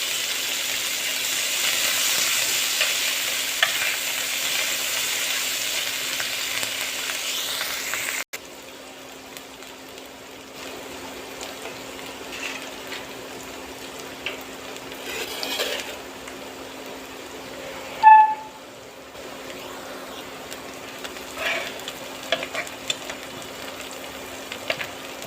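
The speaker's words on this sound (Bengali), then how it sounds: "এখন কাটা পেঁয়াজ মরিচগুলো এর মধ্যে দিয়ে দিচ্ছি ধনিয়া পাতা" Chopped onions, green chillies and coriander leaves hit hot oil for a breakfast egg-and-potato dish, giving a moderate hiss that drops to a quieter, low sizzle. Occasional clinks and a short sharp tap come later.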